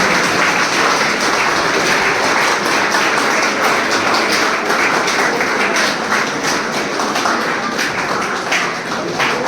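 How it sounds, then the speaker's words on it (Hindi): Audience at a physics seminar welcomes the chief guest with loud, continuous standing applause, a dense wash of clapping that holds steady throughout. "मैं चाहूंगी आप खड़े होकर तालियों के साथ स्वागत करें।"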